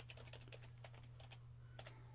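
Quiet, close clicking of fingers typing a password on a computer keyboard, a quick irregular run of keystrokes with short pauses over a low steady hum, no voices.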